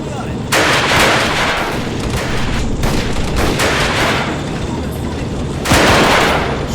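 Gunfire in a video game battle set in the 1935 Second Italo-Ethiopian War, loud repeated bursts of shots and booming blasts in waves, with a voice speaking underneath.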